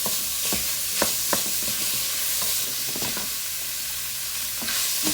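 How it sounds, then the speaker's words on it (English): Ground beef and peppers fry in a pan with very little oil, giving a steady close sizzle broken by sharp scraping clicks of stirring spaced through the clip. "So I'm going to allow our peppers to cook along with our meat, guys."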